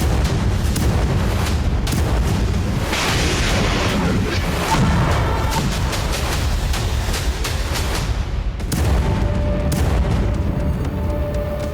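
Russian artillery and kamikaze drones strike Ukrainian military vehicles on the front line: a rapid, loud series of booms and sharp blasts sounds over a constant, rumbling, battle-noise background.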